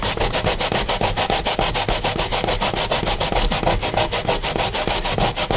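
Sweet potato rubbed on the fine section of a square grater, a fast, even run of rasping strokes, loud and close, with no talk.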